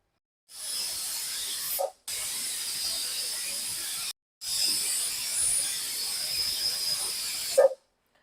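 A pressure cooker on a full gas flame lets out three long, loud hissing steam whistles, each lasting a couple of seconds and separated by short silences, with a small clack at the end of the first and last.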